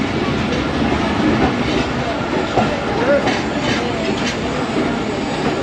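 Pak Business Express at Sahiwal railway station: loud, steady rumble and rattle of rail wagons with faint clickety-clack beats, close by, under a voice speaking.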